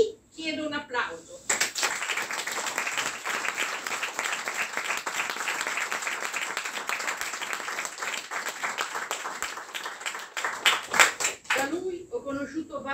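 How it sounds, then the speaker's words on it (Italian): A tribute gathering in Milan bursts into applause after a short spoken lead-in, the clapping swelling and holding for about ten seconds before fading as a voice resumes. "E qui chiedo un applauso."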